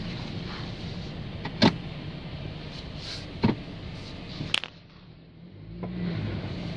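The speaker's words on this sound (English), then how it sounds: "Now we're driving it." A 2008 Dodge Caliber parts car that had a broken ball joint and a ripped-off axle drives slowly around a farm, a low interior rumble broken by a few sharp clunks and knocks.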